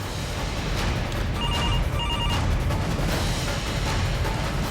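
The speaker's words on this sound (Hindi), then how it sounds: "Somebody answer the phone." A telephone bell rings in short repeated bursts over a loud, dense background of noise and music, steady throughout.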